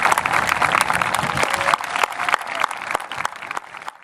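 An audience claps for several seconds in a dense, fairly loud burst of applause, with individual sharp claps popping out as the sound gradually thins toward the end.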